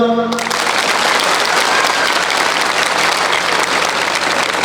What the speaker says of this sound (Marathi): अगोदर पुरी टाळ्या वाजवा पोराईसाठी